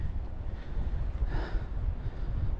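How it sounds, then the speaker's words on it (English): Wind blows at the coast near a marina at Bass Point, New South Wales, as a steady low rumble buffeting the microphone, with a brief brighter gust in the middle and no talking. "Starting to get a little bit windy"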